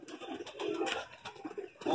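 High flyer pigeons coo in a loft in Agra, soft throaty murmurs overlapping in an irregular stream with no talk, rising a little louder near the end.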